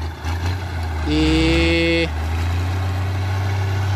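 Valtra 1280E tractor running on a farm, a deep steady low engine drone throughout with a brief horn-like tonal blast near the middle, heard fairly close with a short spoken word.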